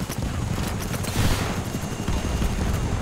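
Gunfire in the blocky online shooter BattleBit Remastered: dense, loud, continuous bursts of shots and battle noise, with no break.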